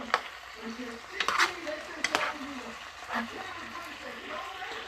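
Garlic sizzles and is stirred in a home cooking pan, with spatula scrapes and knocks against the pan over a steady frying hiss, while someone talks over it.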